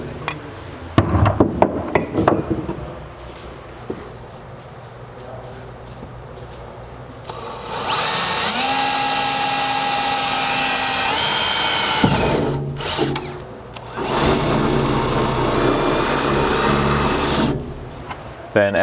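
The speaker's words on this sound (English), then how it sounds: "just go ahead and center punch and drill these holes" A power drill bores holes through a pickup truck bed for mounting MOLLE panel brackets on a Ford Ranger, two sustained loud whining runs with short pauses, preceded by a few sharp taps of center punching.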